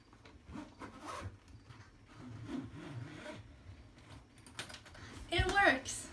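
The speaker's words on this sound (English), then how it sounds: "I'll see if I can zip it." A packed carry-on suitcase is zipped shut in uneven scratchy pulls that build to a loud final rasp near the end, with brief talk mixed in.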